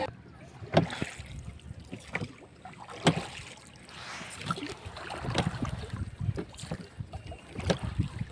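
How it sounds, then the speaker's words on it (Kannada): A rowboat moves through a mangrove forest, with irregular oar strokes and splashes under light wind and talk. "ರೋ ಮಾಡೋ ಬೋಟಲ್ಲಿ ಹೋಗೋಣ."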